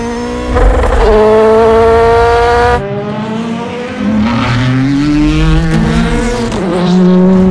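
A race car screams at high speed down the Mulsanne straight in a Gran Turismo racing game, its engine loud and close with rising gear pulls, a brief drop around a shift, then climbing revs again.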